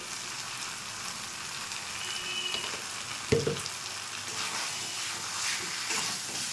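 Cabbage is stir-fried with spices in a pan for a Bengali cabbage kalia, with parboiled potatoes to follow. A steady hissing sizzle runs throughout, broken by one brief clatter of stirring midway.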